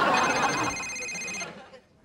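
A telephone rings loudly over a brief stretch of studio chatter, its bell tone cutting off about midway and leaving a quieter tail.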